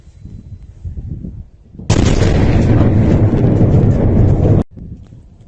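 A bomb detonates in Syria, heard as a sudden loud, broadband blast roar that holds steady for nearly three seconds, then cuts off abruptly, with low rumbling and wind-like noise before and after.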